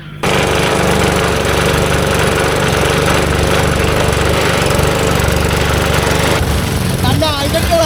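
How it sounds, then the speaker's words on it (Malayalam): A motor-fitted wooden country boat runs on the Ashtamudi backwater near Sambranikodi island, its engine droning loud, close and unbroken, then shifting near the end as faint voices and chirpy sounds come through. "സാമ്പ്രാണിക്കോടി ഐലൻഡിൽ നിന്നും മോട്ടോർ ഘടിപ്പിച്ച വള്ളത്തിൽ ഞങ്ങൾ അഷ്ടമുടി കായലിൽ കൂടെ ഒരു യാത്ര നടത്തി"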